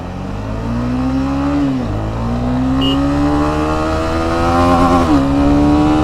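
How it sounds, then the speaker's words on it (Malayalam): A Honda CB300R motorcycle engine revs up hard, pitch climbing, briefly dropping at a gear shift, then rising again; loud and close. "വെരി ഫാസ്റ്റ് ആക്സലേഷൻ ഇത് ലൈറ്റ് വെയിറ്റ് വണ്ടിയാട്ടോ"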